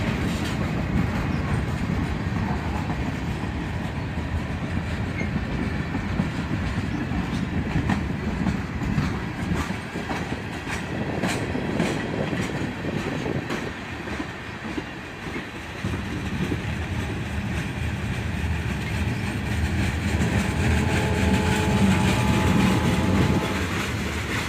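Freight cars roll by steadily at close range, a dense rumbling clickety-clack of wheels on rail that dips briefly past midway before surging again.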